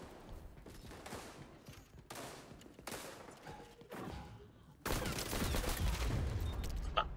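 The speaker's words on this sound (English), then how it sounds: "My own teammates are shooting me." Teammates firing in a video game: several loud, blasting bursts of shots in a row, the last and heaviest running on with no pause, with little talk in between.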